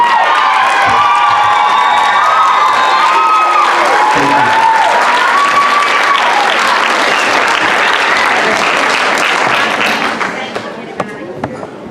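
Audience at a school board of education town hall meeting on transgender students breaks into loud, sustained applause and cheering with shouts, filling the room before tapering off near the end.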